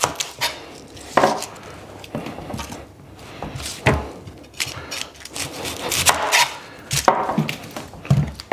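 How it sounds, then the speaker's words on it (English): A sharp kitchen knife chops through an onion on a board, giving a run of crisp, close, irregular knocks and cuts with no talking. "you want to chop the onion."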